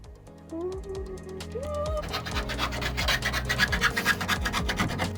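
Rhythmic rasping strokes of a file scraping along an edge, quickening and growing louder, with a faint tone and thumps early on.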